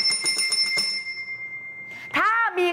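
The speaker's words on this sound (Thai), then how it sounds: "ขอกดกระดิ่ง" Bell sound effect with several quick bright rings that trail off into a sustained decaying tone, followed by someone speaking.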